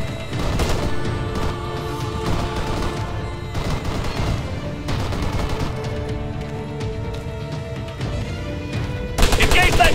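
Machine gun fire in the military shooter game Arma 3, sustained rapid bursts of automatic gunfire rattling loudly and continuously, with a heavier volley near the end.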